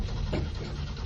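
Land Rover Series 2 engine being started, a loud close rumbling crank and engine churn filling the short moment, steady and unbroken.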